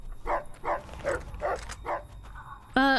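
A dog in the video game Fallout New Vegas barks five times at a steady, even pace, moderately loud. A brief tonal voice sound follows at the end.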